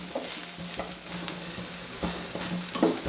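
Prawn roast masala with chilli powder sizzles steadily in a pan while a spoon scrapes and stirs in several close strokes, with no talking.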